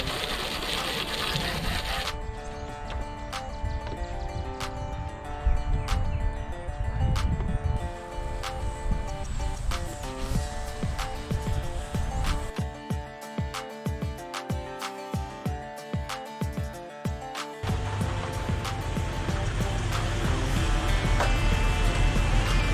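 Steady spray of water and rinsing noise while a dirty, sandy, muddy 2001 Jeep Wrangler TJ is washed, with rhythmic pulsing bursts partway through and a continuous hiss throughout.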